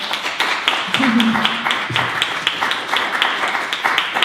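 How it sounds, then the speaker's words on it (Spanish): A small audience gives a round of applause after a speaker's talk at a community event in Chantada, Galicia, with distinct claps pattering steadily, fairly close, while a voice briefly speaks over them. "damos un aplauso"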